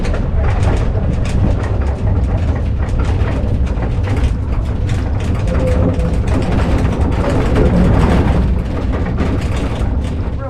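A passing train makes a loud, continuous rumble and rattle for the whole stretch, with faint bird calls and little talk underneath.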